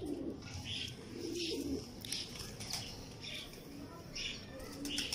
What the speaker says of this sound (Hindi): मियां नज़ीर साहब वाले हिनो कबूतर है उनका आपको शौक करवा रहे हैं।